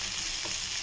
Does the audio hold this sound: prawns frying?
yes